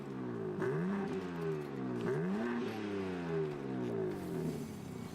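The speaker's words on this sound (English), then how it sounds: "we're gonna get some stock revs to see how quiet this thing is right now" A car engine on its stock exhaust revs twice, each throttle blip rising and falling in pitch over a low idle, fairly quiet and alone without talk.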